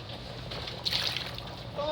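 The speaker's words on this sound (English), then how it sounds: "put a little water in the bottom." Water poured from a tap into a cooking pot, a soft trickling rush that swells midway and lasts about two seconds.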